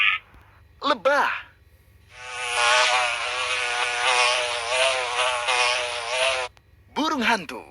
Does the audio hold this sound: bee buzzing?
yes